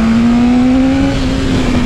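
A Yamaha R1 sport motorcycle accelerates hard: a loud, close, droning engine note climbs slightly in pitch as it pulls, with no voices over it.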